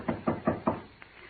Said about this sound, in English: Shall I knock now?